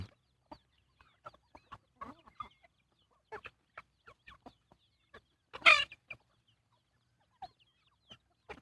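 Free-range farm chickens cluck at evening feeding time, with scattered short clucks near and far, one louder squawk midway, and no voices.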